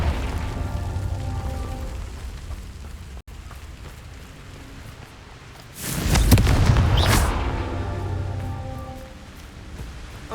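Confringo fire spell from the video game Hogwarts Legacy bursts into one loud, roaring explosion midway through, falling away into rumbling debris over a steady background hum.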